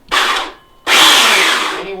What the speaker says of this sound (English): That's why we use the chainsaw.